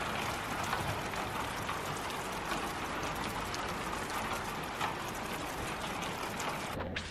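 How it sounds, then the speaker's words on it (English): Heavy rain pours down steadily at a barn construction site, a dense hiss of drops with scattered sharper patters throughout. "Rain's still coming down good."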